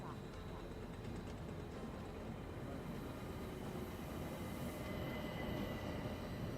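Orient Express sleeper train in an Agatha Christie murder-mystery video game: a steady, full rumble of rolling railway carriages that runs continuously with no clear beats or breaks.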